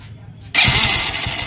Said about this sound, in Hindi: तो चलिए बाइक की चाबी ऑन करते हैं और लगाते हैं सेल्फ।